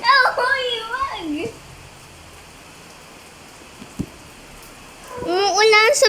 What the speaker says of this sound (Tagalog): Umuulan sa Pilipinas.